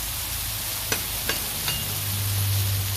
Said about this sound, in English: Flatten it out, get all the meat you can back on the griddle surface. Let it all cook.